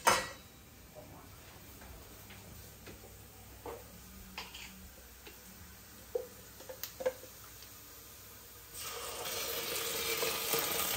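Ginger garlic paste fries in a pan for a masala multigrain khichdi, giving a soft steady sizzle with scattered small clicks. The sizzle swells louder over the final couple of seconds.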